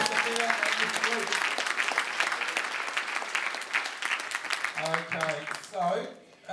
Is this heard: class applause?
yes